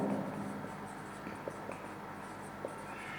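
A pen writes on paper in quiet, faint scratchy strokes with a few soft taps, sounding close but low in level with no voices.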